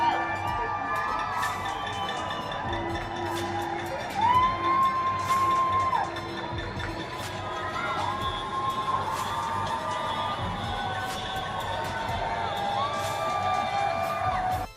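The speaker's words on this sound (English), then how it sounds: "they're shouting, they're hollering, flashing their lights, honking the horns, whatever they can do, bringing awareness, bringing attention" A crowd shouts and hollers in a nightly tribute while car horns honk, a steady, dense roar of cheering voices with sustained horn tones rising out of it.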